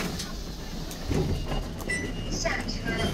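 A Taipei MRT metro train rumbles steadily at moderate volume, with faint clicks and a few high squeals over the continuous rail noise.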